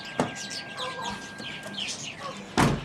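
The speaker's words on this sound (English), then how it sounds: "My birds are extremely loud" Pet chickens clucking and calling in short, scattered bursts at close range, with two louder sharp squawks standing out.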